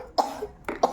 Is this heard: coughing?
yes